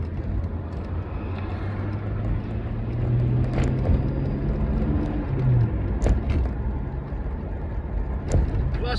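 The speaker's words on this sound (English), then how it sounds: "because I wanna hear the car" A car engine runs with a low, steady rumble close by while people talk over it, with occasional knocks and clicks.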